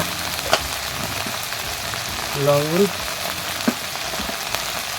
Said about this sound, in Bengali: মশলাটাকে ভালো করে কষে নেবো হলুদ নুন দিয়ে